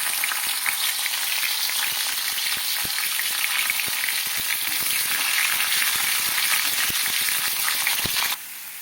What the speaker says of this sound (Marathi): तेल चांगलं तापलंय तर मनुकं भाजून घेते तळून